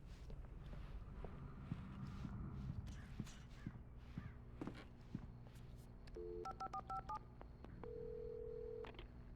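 Footsteps approach in the Alan Wake Remastered game, then a gas station phone is picked up and a quick series of keypad tones is punched in, followed by a steady dial tone, all fairly quiet and clear.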